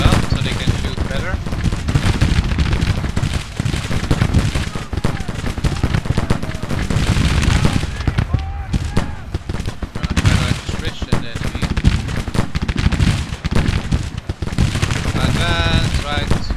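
Continuous infantry rifle fire in the video game Grand Tactician, a dense crackle of many overlapping musket-like shots rolling on steadily, with voices speaking faintly underneath.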